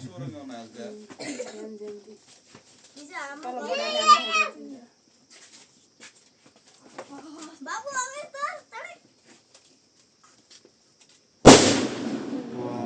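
A firecracker set off during the Tihar festival bursts with a single sharp, loud bang near the end, following stretches of people talking nearby, and the crackling decays briefly afterward.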